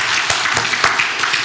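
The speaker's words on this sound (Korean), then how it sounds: "우리 박수 한번 드리겠습니다" A church congregation claps together after a sermon testimony, a steady round of close, moderately loud applause with individual claps audible throughout.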